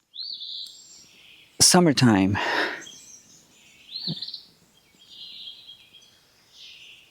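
Birds chirp and whistle in bright short phrases on and off, with a loud burst of nearby human noise and a brief spoken word partway through.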